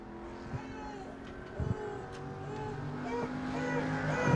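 A Bomber B class race car, number 23, laps New Smyrna's track in qualifying, its engine droning and building steadily in the distance under a commentator's voice.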